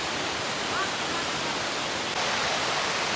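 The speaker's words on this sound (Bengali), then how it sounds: "দেখো আমি কোথায় এখন দাঁড়িয়ে রয়েছি, বিশাল বেগে জল নিচে পড়ছে।" A waterfall in Patratu Valley near Ranchi, water falling with great force, a close, loud, steady roaring rush with no breaks.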